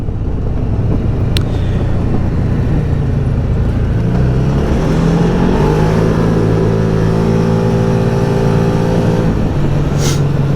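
A Can-Am Maverick Trail 700 side-by-side, derestricted, accelerating hard toward top speed: loud, close engine roar climbing steadily in pitch through the run, with wind rush throughout and no talk.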